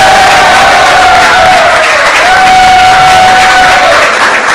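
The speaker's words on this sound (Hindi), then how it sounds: "तालियां।" A studio audience claps and cheers for a comedy show guest, with a loud, sustained wash of applause and a tonal music line running through it.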